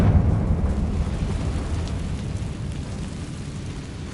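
A blasting spell detonates in a wizarding video game, a loud low rumbling explosion that hits hard at the start and then decays into a long, steady roar.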